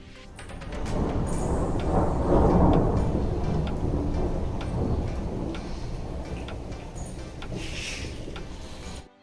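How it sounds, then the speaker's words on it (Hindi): Thunder rumbles deep and heavy during a sudden rainstorm, building to a loud peak and rolling on, with rain hiss and scattered sharp ticks and taps around it, no speech. "अभी आप लोग सुनना कि कितना तेज़ बादल गरजेगा।"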